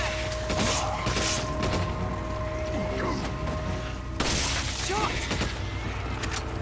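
Gunfire in Resident Evil 5 as headshots land on enemies: several booming shots and impacts over constant game music and effects, loud and busy throughout.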